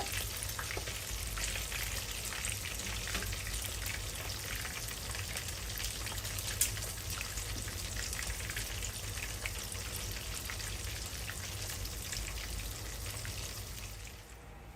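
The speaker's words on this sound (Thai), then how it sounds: "ทอดปลาทูสด กับเนื้อ หมู ปลาตาเดียว" Fresh mackerel and pork fry home-style in oil, giving off a loud, dense, continuous crackling sizzle that holds steady and eases off only at the very end.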